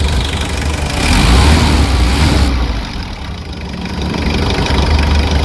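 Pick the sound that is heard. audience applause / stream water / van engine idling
van engine idling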